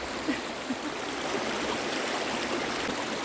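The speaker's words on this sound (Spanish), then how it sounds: "Si alguien sabe el nombre de estos dos arroyos" Water rushes steadily in a broad, continuous hiss, like a stream flowing nearby, with a couple of faint splashes early on.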